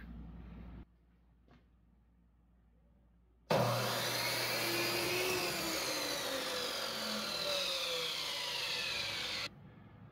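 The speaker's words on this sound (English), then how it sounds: "And this time we'll want to cut all the way through that new mark." A power saw cuts all the way through a sheet of plywood, a loud, steady whine that starts abruptly after a quiet pause and runs for about six seconds before stopping sharply, with no talking.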